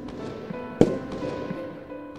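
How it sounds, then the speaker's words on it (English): Fireworks pop in a castle-themed minigolf video game, several sharp bursts, one louder crack near the middle, over a soft steady backdrop. "There's fireworks here."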